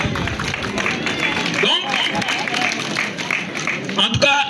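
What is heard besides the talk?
audience applauding the mothers at a neighbourhood festival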